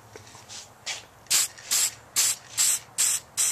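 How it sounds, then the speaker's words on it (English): Toner sprayed from a can onto the front edge of a 1941 Zenith Model 6-S-597 radio cabinet: a series of short, close hissing bursts in a steady rhythm that grow louder after the first few puffs. "Now we're going to go ahead and spray the front edge."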